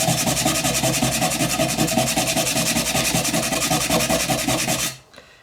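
Coarse 80-grit sandpaper scrubs against the pitted chrome rear rack of a Boulevard C50 motorcycle, making a loud, close, steady rhythmic rasp of back-and-forth strokes that runs continuously and then stops abruptly near the end.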